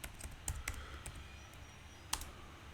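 Scattered keystrokes on a computer keyboard while typing Java code, a handful of faint clicks spread unevenly over a low steady hum.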